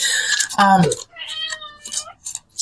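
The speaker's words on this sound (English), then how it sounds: "Can you hear my kitty?" A cat gives a few drawn-out, wavering meows, close and fairly loud, broken up by short pauses.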